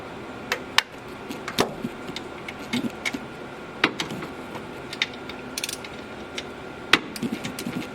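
A ratchet tightens bolts on a 2004 Honda Element alternator, producing sharp close clicks in irregular bursts with small clinks of metal between strokes.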